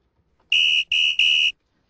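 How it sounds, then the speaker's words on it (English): Fireside Girl whistles are blown to summon the group: three sharp, shrill blasts in quick succession, the first slightly longer, loud and close, followed by silence. "me and Isabella take out our Fireside Girl whistles and blow them to call the rest of the Fireside Girls"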